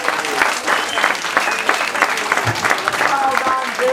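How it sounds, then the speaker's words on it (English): An audience at a snake show gives a round of applause for a group of girls, a steady, lively clapping that carries for several seconds under scattered voices. "Give them a round of applause."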